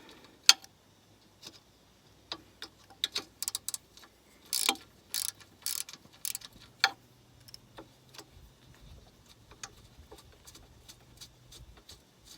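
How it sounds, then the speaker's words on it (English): Small 1/4 inch drive ratchet working an 8 mm drive height sensor bolt on an R56 Mini Cooper S, a close series of sharp clicks in irregular bursts, with a quiet low hum underneath. "I just have it on this little 1/4 inch drive stock ratchet."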